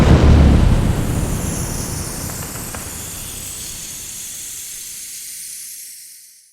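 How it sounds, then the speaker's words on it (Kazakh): Fireworks go off with a loud, close burst that turns into a long hissing crackle and fades away over about six seconds. "Отшашу."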